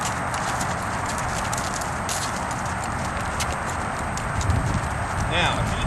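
A horse, Romeo, rolls straight into a canter under saddle, hooves drumming in a steady, close clip-clop rhythm over a constant broad rush of wind or movement noise, with a slight surge near the end.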